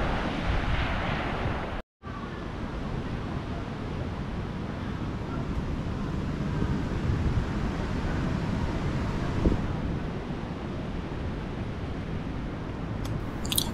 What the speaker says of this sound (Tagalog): Ganito yung panahon ngayon dito kasi sobrang lakas ng hangin.